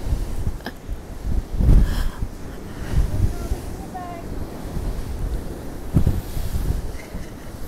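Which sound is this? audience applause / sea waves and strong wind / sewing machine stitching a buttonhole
sea waves and strong wind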